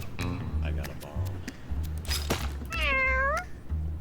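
Cartoon cat meows from the video game Mewgenics, a few short mews amid game sound effects and clicks, with a person talking quietly over them.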